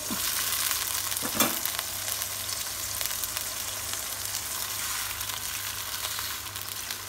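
Tofu frying in a pan with seasoning and a glass of water, a steady close sizzle with a clink of a utensil near the start and soft stirring sounds throughout.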